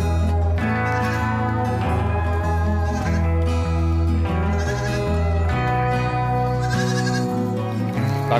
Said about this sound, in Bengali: কাকিমা ছাগল নিয়ে যাচ্ছে